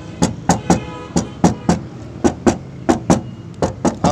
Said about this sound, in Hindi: अभी ये इस फ्रंट गेट की ज़रा आवाज़ सुनिएगा,